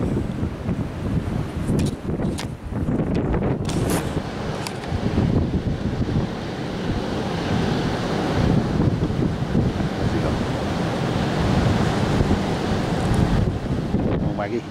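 Waves wash continuously onto a beach under gusty wind buffeting the microphone, a loud, rough, unbroken roar with surges of surf and bursts of wind noise.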